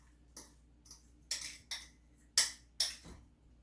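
Vegetables and potato mash scooped into a pot of Senate bean soup: a series of six or so sharp metallic clinks and taps of a utensil against the pot, spaced unevenly and close by, with no talk.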